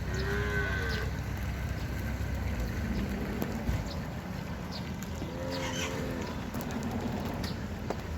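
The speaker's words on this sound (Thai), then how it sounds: "ตัวนี้งัวใหญ่พี่น้อง" Cattle low at an outdoor cattle market in Ban Khwao, Chaiyaphum, with a couple of moos, one early and one midway, rising over a steady background of crowd murmur and rumble.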